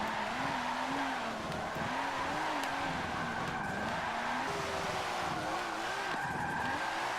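A widebody Nissan R31 Skyline GTS-R drifting in fifth gear in Forza Motorsport 7: a steady droning engine note that wavers under continuous tire squeal, with no voice.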